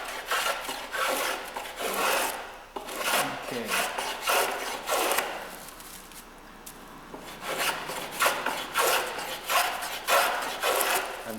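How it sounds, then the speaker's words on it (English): Repeated rasping strokes of a block plane shaving a wooden boat stem, close and steady with a short lull in the middle, and no one speaking. "And now I'll walk around to the other side and block plane it as well."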